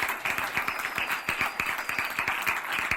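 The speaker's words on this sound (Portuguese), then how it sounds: "peço uma salva de palmas" An audience claps steadily in applause welcoming a Brazilian Navy rheumatologist as she is introduced on a talk program; dense, even clapping fills the whole stretch at moderate level with no voices.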